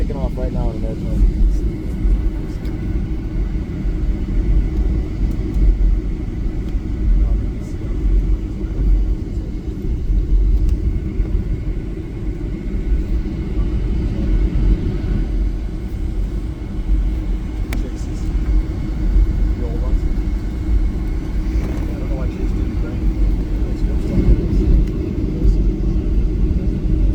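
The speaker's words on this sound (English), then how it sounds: "taking off right now in the airplane" Steady low engine rumble inside an airliner cabin during takeoff, a loud continuous drone filling the whole stretch with a faint voice now and then over it.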